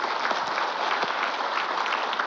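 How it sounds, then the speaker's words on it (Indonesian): Audience applause at an Islamic religious talk gathering, steady dense clapping from a crowd that fills the moment evenly at moderate loudness, with no speech over it. "Tepuk tangan dulu."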